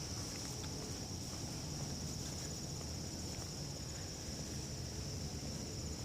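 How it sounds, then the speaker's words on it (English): Crickets and other insects chirp in a riverside park along the Mississippi River, a faint continuous high-pitched trill over a steady outdoor background hiss. "you can faintly hear crickets and bugs"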